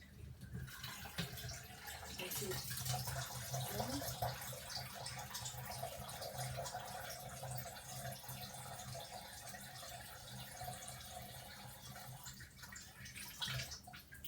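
Water kefir pours and trickles steadily from a tipped jar as it strains off the grains, a faint continuous splashing and dribbling liquid sound.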